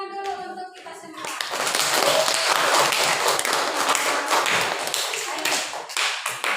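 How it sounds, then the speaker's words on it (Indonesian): A classroom of schoolchildren claps together after reading their descriptive texts aloud, the applause rising quickly after a brief spoken line and holding loud and dense for several seconds before thinning out. "tepuk tangan dulu untuk kita semua"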